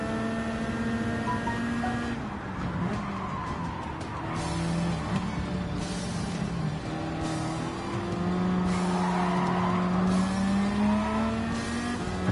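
The Castrol Toyota Supra race car in Gran Turismo 7 roars loudly and steadily, its engine climbing in pitch and dropping at repeated gear shifts, with no talking.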